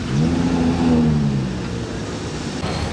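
A Ferrari engine revs close by, its steady, throaty note climbing and then settling back over about three seconds, with no voices.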